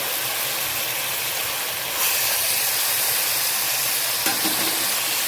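Loud, continuous hissing sizzle of mutton added to a pan of fried onions, a dense steamy crackle that holds steady throughout with a brief knock near the end.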